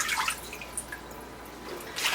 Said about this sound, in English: rinse it off in the water